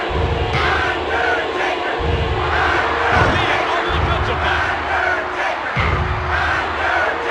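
A loud arena crowd roars and cheers steadily in WWF War Zone, a PS1 wrestling game, with thuds from the ring. A commentator talks over the noise.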